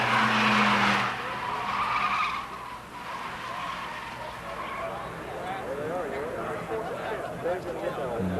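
Showroom Stock A race cars, a Ford and two Datsuns at a 1980 national championship, squeal their tires and roar their engines through the turns while a commentator talks steadily over them.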